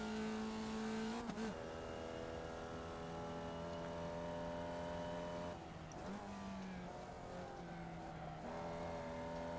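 A Formula Vee race car engine in the iRacing sim at Jefferson, droning and buzzing near and loud, with a brief downshift blip early on and another rev change midway before settling into a sustained high-revving whine.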